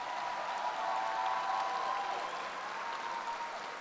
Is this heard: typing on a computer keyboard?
no